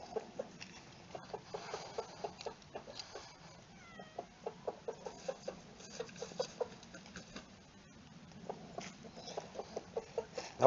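Chickens and a rooster in a new chicken run give a rapid, fairly faint series of short clucks and chirps that come in bursts, with quieter gaps between them.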